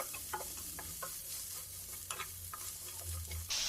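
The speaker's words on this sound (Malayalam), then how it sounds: "ഉവയ്ക്ക ഇട്ട് കൊടുക്കാം തേങ്ങാക്കൊത്ത് ആവശ്യത്തിനുള്ള ഉപ്പ് എല്ലാം കൂടെ ഇളക്കി യോജിപ്പിക്കാം" Ivy gourd being stirred in a pan with coconut pieces and salt, a spoon scraping in repeated short strokes over a low, steady sizzle, fairly quiet and with no talk.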